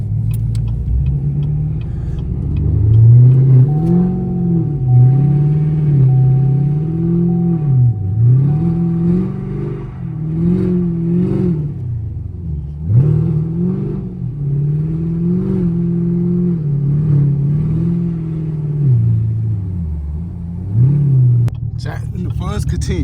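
Chevrolet Camaro 2SS V8 rumbles loudly from inside the cabin on snowy streets, revving up and easing off in repeated surges, with people talking over the engine.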